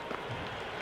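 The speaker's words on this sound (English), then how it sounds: "There's a buzz, a real buzz coming from the stands." Crowd noise from the stands of a Sri Lanka versus Pakistan T20 cricket match in the Cricket 26 video game, a steady, faint wash of cheering and murmur with no distinct peaks, over before any single call stands out.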